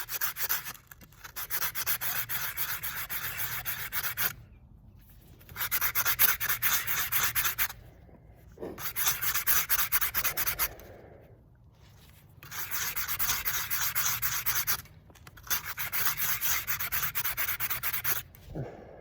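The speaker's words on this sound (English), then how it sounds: "I guess while I'm here, might as well show some sanding." Sandpaper rubbed by hand over a rock in repeated bursts of steady, close scratchy sanding, each lasting a few seconds and separated by brief quiet pauses, with no talking.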